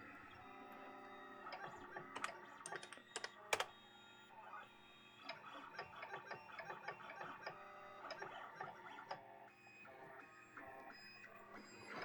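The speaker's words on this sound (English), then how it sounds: "That's just printer sounds." A Lulzbot Mini 3D printer running with its stepper motors whirring, ticking and buzzing in shifting, irregular patterns, faint and steady with occasional sharper clicks over a low hum.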